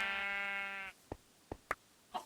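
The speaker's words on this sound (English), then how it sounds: "Sorry, Mr. Sheep." A sheep in Minecraft gives one clear, sustained bleat up close, followed by a few faint short knocks and clicks.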